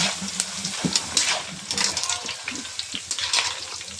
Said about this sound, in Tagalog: So, ayan guys, nalunodan ni Maring Inday ang cassava chip